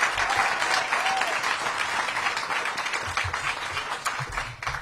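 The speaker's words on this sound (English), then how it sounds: "So give yourselves a round of applause for all the work that you all have done." An audience applauds at a mayoral awards event for local entrepreneurs and small businesses, dense sustained clapping from a sizable crowd that holds steady and thins slightly toward the end.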